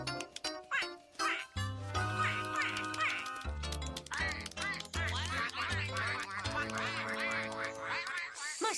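Cartoon mother duck and ducklings quacking in an animated film, repeated quacks woven through a busy orchestral score, with brief voices in between.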